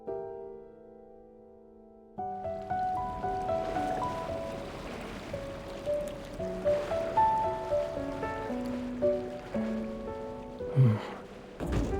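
Steady washing of ocean surf with rolling swells and a soft wash of water, layered with faint tonal music throughout, in the video game Love and Deepspace.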